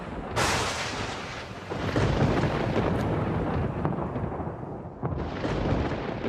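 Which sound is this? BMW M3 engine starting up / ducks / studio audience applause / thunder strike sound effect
thunder strike sound effect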